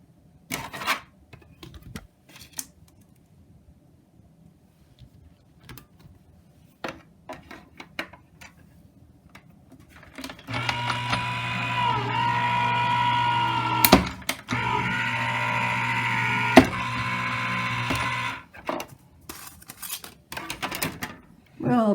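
A Vagabond electric die-cutting machine runs card through its rollers with a steady motor hum and whine for about eight seconds. Scattered clicks, taps and handling noises come before and after.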